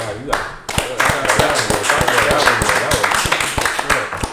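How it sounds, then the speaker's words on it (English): Sharp, rhythmic hand claps ring out close by during a podcast conversation, repeating about twice a second while someone talks and reacts over them. "I got to clap that."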